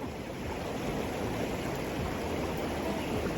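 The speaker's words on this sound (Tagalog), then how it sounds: "Malakas ang agos ng tubig." Strong current of a river flowing over rocks in Tochigi, Japan, a steady, loud, broadband rushing that fills the whole clip without pause and with no voices.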